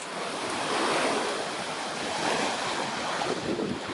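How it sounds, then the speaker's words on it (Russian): Stormy Laptev Sea surf churns near a lagoon entrance, a loud, continuous roar of breaking waves with heavy wind buffeting the microphone and no voices. "Море продолжает бушевать."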